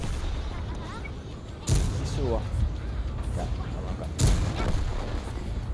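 A KV tank's cannon fires in a video game, two heavy booming shots a few seconds apart, with someone talking over the play throughout.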